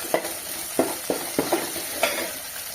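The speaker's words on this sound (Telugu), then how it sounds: "అల్లం ఉల్లిల పేస్ట్ వేసుకొని మంచిగా మిక్స్ చేసుకుందాం ఫ్రెండ్స్" Ginger and onion paste frying in a pan, with a soft steady sizzle under about six sharp scraping strokes of a spoon as it is stirred, close by and without voices.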